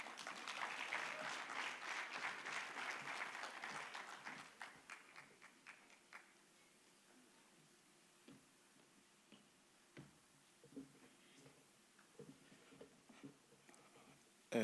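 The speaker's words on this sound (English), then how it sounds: "Let's give him a good round of applause." A conference audience of delegates gives a round of applause that stays loud for about four seconds, then thins to scattered claps and fades to near silence.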